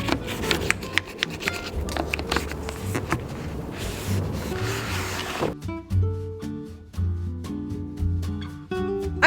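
A toothbrush and an old towel scrub away during cleaning, giving a close, continuous rubbing rasp that then breaks into short, separate scrubbing strokes with brief pauses between them.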